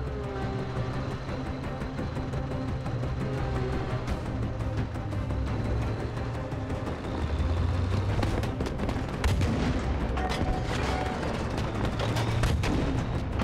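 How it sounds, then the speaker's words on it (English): Battlefield V combat at Tobruk: a dense, continuous battle din of gunshots and heavy artillery booms over a low rumbling vehicle drone, with sharper cracks growing busier toward the end. "What the hell is shooting us?"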